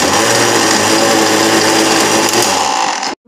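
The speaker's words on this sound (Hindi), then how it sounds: "देखो इमली और आलू बुखारे का हमारा ये शरबत ग्राइंड हो रहा" An electric grinder runs steadily at high speed, blending tamarind and dried plums (aloo bukhara) into sharbat, a loud continuous whirring motor that cuts off abruptly at the end.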